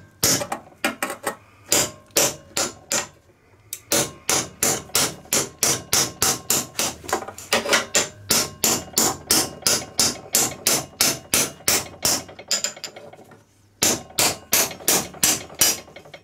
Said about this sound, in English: now I just want to tap with the hammer and get that driven end housing and the shaft, the rotor shaft out at once